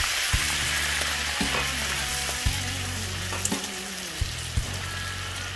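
Butter and crushed garlic sizzle in a pan, a dense steady frying hiss punctuated by a few soft clinks, with a low hum beneath.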